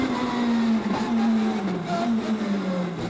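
Mini race car fitted with an R1 motorcycle engine taking fast corners, its high engine note holding steady then easing and rising slightly, loud and close without talk.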